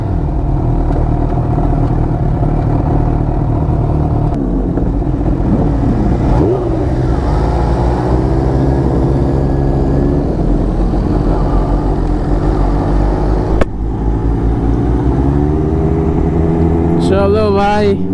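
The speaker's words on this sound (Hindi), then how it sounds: "चलो भाई, एक सुपर बाइक राइड होगा अभी।" Superbikes, including a Ninja H2, ZX10R and Hayabusa, drone and rev together on the Agra–Lucknow Expressway in a continuous loud engine roar with shifting pitch and occasional clatter.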